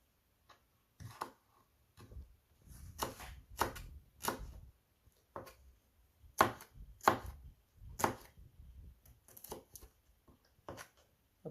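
Green chillies and shallots being chopped into small pieces on a board, a string of sharp knife strikes in irregular bursts, close and clear with no talking.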